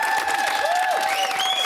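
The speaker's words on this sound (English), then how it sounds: "Give yourselves a round of applause" Studio audience applauding and cheering on a Celebrity Big Brother spin-off show, a steady wash of clapping with whoops and tonal music or stings running over it for a short stretch.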